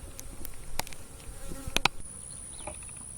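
Honey bees buzzing around an opened backyard hive, several insects droning close by with individual bees zipping past the microphone in short loud passes.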